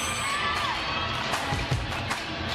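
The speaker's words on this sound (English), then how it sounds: "Boy, this crowd is roaring early on." A volleyball match crowd at a professional league game in Cebu roars and cheers, a loud, continuous wash of shouting and whoops with a few sharper yells rising out of it, no commentary over it.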